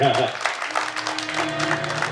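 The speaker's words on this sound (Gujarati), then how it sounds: "એકવાર તાળીથી વધાવજો એમને" Audience at a devotional group performance claps in a quick burst of applause, dense and fairly close, following a brief voice at the start.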